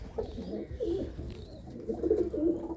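Large, sturdy racing pigeons in a home loft coo over and over, close by, in soft throaty rolls with no voices.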